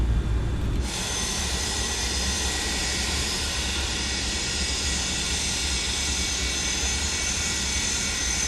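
Simulated MD-82 airliner engines on a takeoff roll in a flight simulator, with a loud steady jet roar that rises sharply after the first second and holds a broad, constant whine, with no talking.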